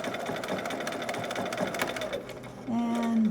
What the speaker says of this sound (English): I'm going to kind of come around for the curve of the neck and stitch off